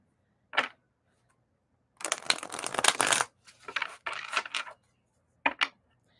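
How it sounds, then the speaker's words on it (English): Tarot cards are shuffled by hand in short, crisp bursts of riffling and rustling, close by and separated by quiet pauses, with no speech. "I've been sitting here shuffling"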